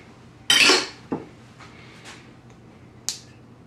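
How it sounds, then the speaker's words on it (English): Melted chocolate going into a bigger bowl for a gluten-free chocolate soufflé brings a loud bright clatter of bowl and utensil, a second knock, then a few softer clinks and a final sharp tap in a quiet kitchen. "So I'm gonna put my chocolate into a bigger bowl."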